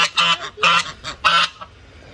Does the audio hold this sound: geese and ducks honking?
yes